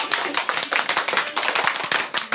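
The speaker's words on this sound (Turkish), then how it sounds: "Evet, alkışlıyoruz." Children in a Ramadan program studio clapping in a quick, dense burst of close hand claps that continues briefly without pause.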